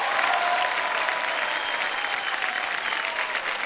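Sustained audience applause on the set of a TV quiz show, KBC season 13, greets a contestant who has won 12,50,000 rupees, a dense even wash of clapping heard alone.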